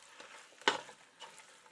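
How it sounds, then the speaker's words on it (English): Chicken spaghetti with pasta and melting Velveeta sizzles quietly in a pan, with one brief stirring scrape and crackle standing out before the soft frying hiss settles again. "you can hear everything starting to sizzle"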